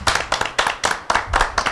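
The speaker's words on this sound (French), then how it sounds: "Alors moi j'applaudis." A few people clapping on a television studio set at the close of a football talk show, sharp separate claps in an uneven rhythm, close and clear.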